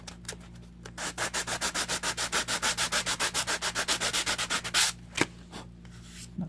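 Quick, even strokes of sandpaper rubbing across wood, a close rhythmic scratching that runs for several seconds before stopping.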